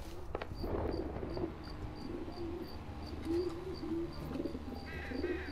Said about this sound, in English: you can even hear the pigeons